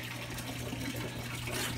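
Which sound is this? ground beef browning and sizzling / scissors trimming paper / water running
water running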